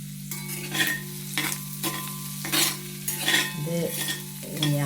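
Mussels fry in hot oil with curry leaves added, giving a steady close sizzle broken by repeated bursts of stirring and crackling.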